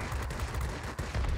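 Rapid, dense bursts of aircraft cannon fire in the video game World of Warplanes, loud and continuous, with a brief dip near the end before the firing resumes.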